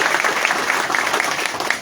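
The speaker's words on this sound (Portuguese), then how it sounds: "Uma salva de palmas para as crianças, para as mães das crianças, para vocês que estão aí" Applause from an audience at a Brazilian municipal swearing-in ceremony for a housing secretary, honoring children and their mothers; steady, dense clapping fills the room loudly and continuously.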